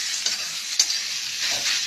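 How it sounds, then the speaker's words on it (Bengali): Radish frying in a pan with turmeric and sugar, a soft hiss of sizzling under three short scraping strokes of a spatula, close and moderately quiet. "দেখো আমার মূলোটা ভাজা ভাজা হয়ে যাচ্ছে।"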